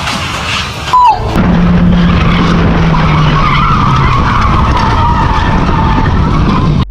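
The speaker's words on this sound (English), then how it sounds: "the car lost control and crashed into another car and the median strip" A car on a road slams into something with a sharp, loud bang, then its tires shriek in a long, loud skid under a roaring engine that continues to the end.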